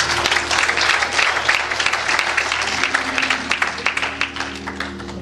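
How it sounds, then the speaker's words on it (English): Sustained applause from a church congregation for the praise team, a dense wash of many hands clapping steadily throughout, loud and close, with a low sustained tone underneath. "Won't you give them a hand clap?"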